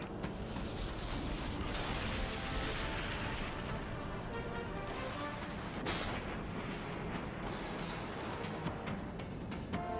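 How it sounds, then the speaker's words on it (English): Vulture missiles launching from a warship in the sci-fi space combat game Dreadnought, a series of heavy booming blasts and rushing bursts layered over a constant loud battle rumble. "Vulture missiles have a clean shot."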